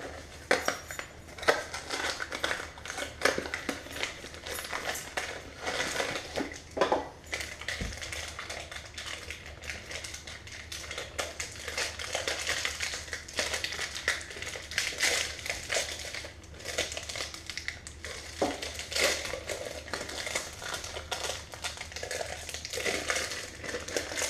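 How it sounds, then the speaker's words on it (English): Plastic pack of marzipan being opened on a kitchen bench, continuous crinkling and crackling of plastic with scattered taps and rustles, close and fairly steady throughout. "I'm going to open that pack up now"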